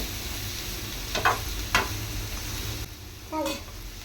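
Chopped vegetables for a sandwich sizzle in a pan under a steady frying hiss, with a few brief scraping strokes as they are stirred.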